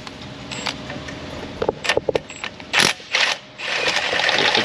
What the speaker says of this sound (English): Step it up to the 3/8 wobble gun.